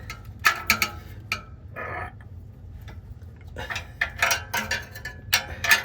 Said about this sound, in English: It sounds like I'm really torquing it down